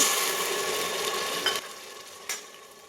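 Onion and tomato paste fry in hot oil for pav bhaji, a steady close sizzle with a couple of brief stirring scrapes.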